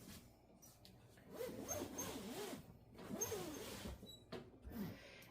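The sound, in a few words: zipping up a boxed cushion dog bed cover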